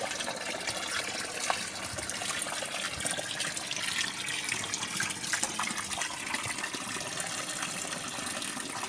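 Water pours in a steady, continuous gush for the full stretch, loud and close, while water in an aquarium pond is treated to lower a high pH.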